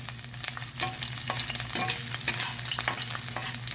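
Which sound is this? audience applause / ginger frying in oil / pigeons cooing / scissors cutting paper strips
ginger frying in oil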